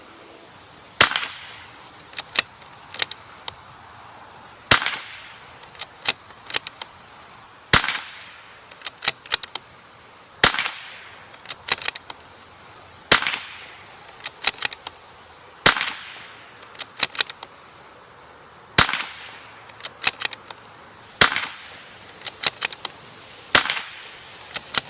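A Bergara bolt-action .22 rimfire rifle firing SK Long Range Match ammunition, with sharp single cracks spaced a few seconds apart across about 25 seconds and small clicks and clatter of bolt cycling between shots.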